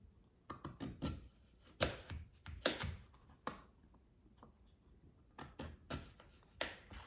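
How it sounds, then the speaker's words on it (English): A knife slices sweet potato quarters into fry-thick strips on a cutting board, a run of quick, close thuds in short bursts with brief pauses between, fairly soft overall. "I'm just going to cut each quarter into slices that are the thickness of the fries"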